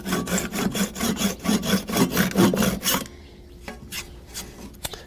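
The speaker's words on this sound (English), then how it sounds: "This is really what these type of saws are really good for, is trimming this kind of stuff off." Samurai hand saw trimming wood, a steady run of rapid rasping strokes for about three seconds, close and fairly loud, then stopping, leaving quieter handling noise and a couple of light knocks.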